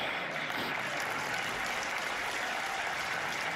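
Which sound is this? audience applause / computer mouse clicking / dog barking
audience applause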